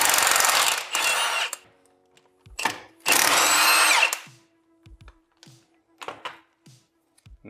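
An impact wrench zips off the two lower mount bolts on a car's suspension, two long loud bursts and a couple of short rattling hits separated by quiet gaps with small clicks of tools.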